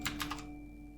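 A few quick computer keyboard key presses during a SketchUp design session, three or four soft close clicks in the first half-second followed by a quiet electrical hum.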